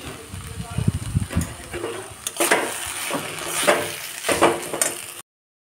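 Banana flower fritter mixture being mixed with a little gram flour in a bowl, giving repeated wet squelching stirs and soft clinks of utensil against dish in an uneven rhythm, close by, ending abruptly.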